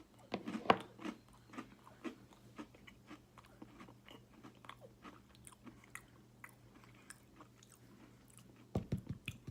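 A chocolate cinnamon Oreo cookie gets bitten with a sharp crunch, then chewed in a steady series of soft, close crunches. A low hum sits underneath, with no talking.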